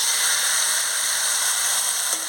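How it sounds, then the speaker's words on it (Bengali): Chicken meat hits fried spice paste in a hot pan, a steady broad close sizzle that hisses evenly throughout, with a faint clink near the end and no talking. "এবার মাংসটা দিয়ে দিচ্ছি।"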